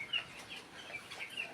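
Chickens on a farm suffering in hot weather give a few soft clucks and calls at close range, with no talk over them.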